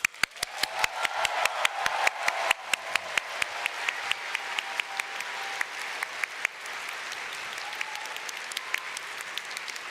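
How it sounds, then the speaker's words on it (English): An audience at the Final Fantasy XIV Fan Festival 2023 keynote applauds steadily for several seconds, many hands clapping together in a dense, sustained round. "give him the biggest round of applause."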